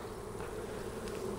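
Honeybees buzz steadily and closely throughout an open hive inspection of brood frames in a colony suspected of chronic bee paralysis virus, a continuous droning hum with no talking.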